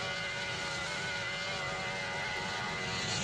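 Steady, loud engine drone of an Airbus A230neo airliner in flight in the Roblox flight game PTFS, a continuous dense roar with a faint tonal whine, unbroken and unchanging throughout.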